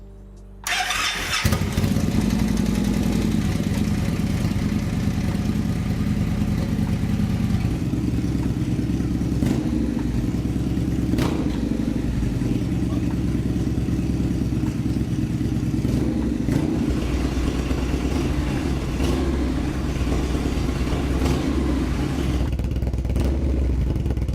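A cold Victory motorcycle engine starts up with a brief crank, then settles into a loud, steady, close idle that runs on for about twenty seconds with faint mechanical clatter.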